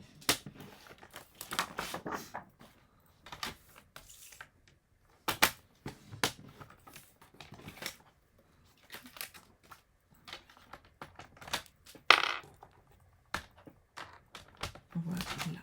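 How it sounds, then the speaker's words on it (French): Scissors cut a 9 by 12 inch piece of paper for a scrapbook photo album, making close, crisp snips in short irregular bursts separated by quiet pauses, with no talking. "Et je vais couper un morceau de 9 par 12."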